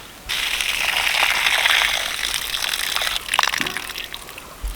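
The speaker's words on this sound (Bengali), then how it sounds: "এখন আমি পালংগুলো দুবার করে ধুয়ে নেব" A bunch of fresh-cut spinach is rinsed in water, with a steady gushing, sloshing wash for about three seconds, then quieter dripping and a few handling knocks near the end, close by with no talking.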